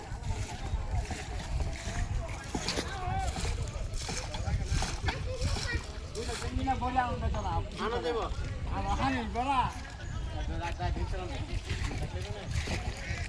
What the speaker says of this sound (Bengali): নৌকা দিয়ে ধান আনতেছে